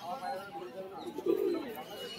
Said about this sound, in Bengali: আন্ধ্রা লালফুল পায়রা রয়েছে, ম্যাড্রাস।